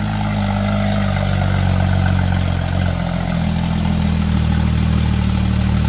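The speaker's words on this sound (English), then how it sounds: "So that was a nice little cold start." A Porsche Cayman S with an Armytrix valved exhaust idles after a cold start, a loud, steady low engine drone with no revving, close by and alone.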